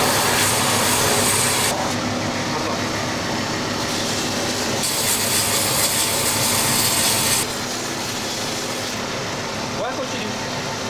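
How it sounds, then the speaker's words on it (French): A cobbler scrapes a shoe and a pair of soles before gluing in a workshop, steady rasping strokes in long bursts, close and fairly loud, with people talking over it. "On va gratter pour ensuite poser la colle sur la chaussure et la paire de semelles"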